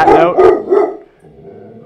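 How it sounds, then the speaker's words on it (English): A dog barks at someone walking past an office, several loud close barks in quick succession followed by a quieter growling tail. "someone walked by the office and the dog didn't like it"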